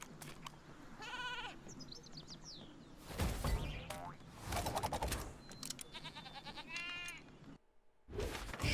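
Sheep Creep characters bleating in Skylanders Trap Team video game combat, repeated wobbly bleats mixed with boings, whooshes and impact effects over game music, moderately loud and continuous throughout.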